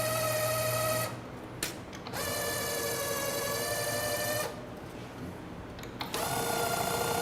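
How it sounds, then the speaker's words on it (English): A peg winder loosening the strings of an acoustic guitar gives a steady, close mechanical whir in three bursts, split by two brief pauses. "We're going to come up to our peg winder, and we're going to loosen the string, keeping tension."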